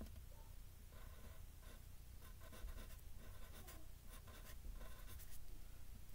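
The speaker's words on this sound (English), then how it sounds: "Like, I'm gonna write Yamaha." Pen scratching steadily across paper while writing the motor brand name Yamaha on a drawing of a small fishing boat, a quiet, close, continuous scribble in short bursts of strokes with no talking.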